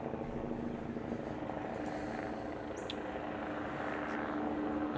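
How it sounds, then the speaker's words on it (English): A helicopter passes overhead, heard faintly through a window microphone as a low, steady rumbling drone beneath a quiet indoor room tone. "That's a helicopter."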